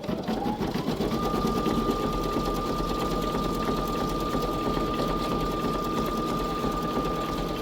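A Baby Lock Flare embroidery machine stitches in the hoop with a rapid, even mechanical whir and a steady tone, close and continuous throughout, with no speech.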